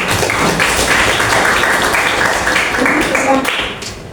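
A classroom audience claps in a steady, dense wash of applause that holds level for about four seconds, then thins out at the end, with voices mixed in.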